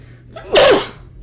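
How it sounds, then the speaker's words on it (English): A single sharp sneeze bursts out close to the microphone, a short breathy intake followed by an explosive burst that fades quickly. "Sorry, I feel like I'm going to sneeze."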